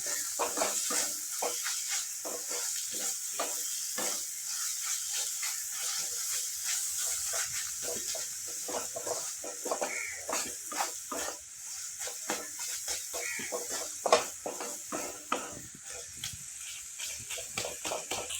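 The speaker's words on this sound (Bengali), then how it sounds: "দেখো, এখন আমি ভালো করে নেড়ে নেব, মিশিয়ে নেব, পেঁয়াজের সাথে শীতলের সাথে ম্যাশ করে নেব।" Sidol (dried fermented fish) and onion being stirred and mashed in a frying pan, a steady sizzle and hiss with repeated spatula scrapes and taps against the pan, fairly close, with no talking.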